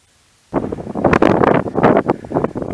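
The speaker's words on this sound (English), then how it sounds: "That was always known as Windy Lock, and you can hear why" Strong wind buffets the microphone on a mountain summit at Foinaven and Arkle in the Scottish Highlands, roaring in loud gusting bursts after a brief quiet start, with no talk.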